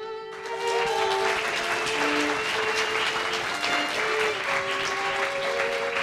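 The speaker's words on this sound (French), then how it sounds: "je vous demande un tonnerre d'applaudissements pour notre jury" Thunderous applause for the jury at an eloquence contest final, a full crowd clapping steadily and loudly throughout, with faint tonal music lines running beneath it.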